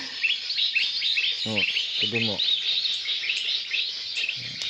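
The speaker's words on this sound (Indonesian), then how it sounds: "Burung apa bang itu bang?" Birds chirp in a dense, busy chatter of quick high tweets throughout, with someone briefly speaking partway through and a soft insect-like trill in the background.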